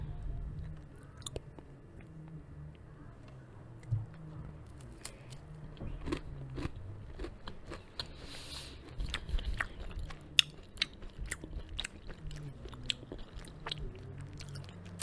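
Someone close to the mic bites and chews buttery snacks from Whole Foods, with steady crunchy and crackly mouth sounds and sharp crisp bites scattered throughout, quiet and intimate, with no talking.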